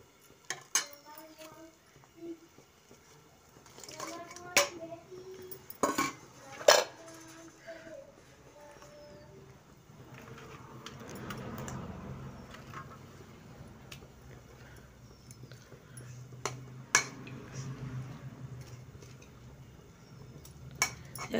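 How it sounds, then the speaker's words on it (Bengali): Cooking sounds from a home kitchen as fried Bhetki fish bones go into boiling curry in a pan: scattered clinks and clatters of utensils against metal, with several sharp knocks near the start and a low bubbling bed underneath. "ঝোলটা ফুটে গেছে, এবার আমি ভেজে রাখা মাছের কাঁটাগুলো দিয়ে দেবো।"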